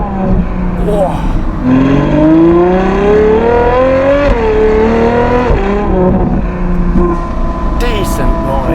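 Novitec-tuned Ferrari 812 GTS with its V12 accelerating, a loud, close engine note rising through several climbs and dips in pitch, with voices talking over it.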